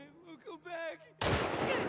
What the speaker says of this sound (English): Is that a gun? He's got a gun.